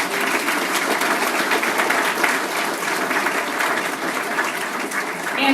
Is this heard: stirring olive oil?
no